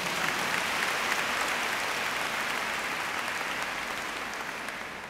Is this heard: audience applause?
yes